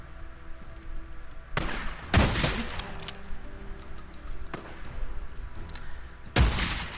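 Shotgun blasts in Days Gone, three sharp loud booms spaced a few seconds apart, each with a short ringing tail, over quiet game ambience.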